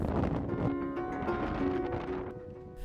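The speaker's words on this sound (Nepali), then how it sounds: "यहाँ पुग्दा त मान्छे उडाउला जस्तो हावा चल्यो।" Strong wind at a high Himalayan mountain pass in Solukhumbu, a loud low rumbling buffet of gusts against the microphone, continuous and close, with no talking.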